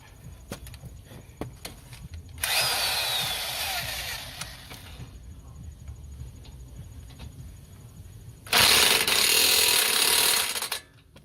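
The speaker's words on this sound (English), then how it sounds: "now I'm gonna go in the back, use a 19mm and tighten down the bracket" Power tool driving a 19mm socket to tighten a brake caliper bracket bolt on an Acura TL, two loud sustained bursts of a few seconds each separated by a quieter pause with faint shop noise.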